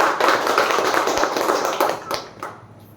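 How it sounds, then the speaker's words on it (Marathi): An audience applauds dense, continuous hand clapping to congratulate an HDFC Bank manager on his promotion at a farewell and felicitation ceremony, loud and close at first, then thinning into scattered claps toward the end. "त्यांना आपण सर्व टाळ्या वाजून त्यांचं अभिनंदन"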